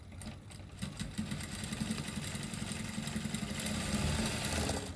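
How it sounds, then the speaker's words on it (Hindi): A sewing machine runs stitches along a folded fabric strip, starting after a brief quiet moment and then whirring steadily with a rapid mechanical rhythm close by until the end. "वापस आप 1 इंच पे से आपकी सिलाई चला दीजिए"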